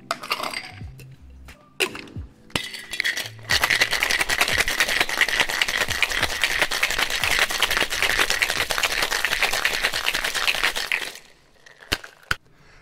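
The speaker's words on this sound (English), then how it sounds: "fill the glass with ice and give it a good shake." Cocktail shaker packed with ice and a lime-juice tiki drink being shaken hard, a dense continuous rattling of ice lasting several seconds after a few preliminary clinks and knocks, then stopping with a couple of final taps.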